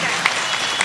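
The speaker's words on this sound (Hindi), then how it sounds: "एक बार अपने लिए जोरदार तालियां बजाएं।" A poetry gathering's audience breaks into applause, a brief dense wash of clapping that stays steady and fairly loud throughout, with no voices standing out above it.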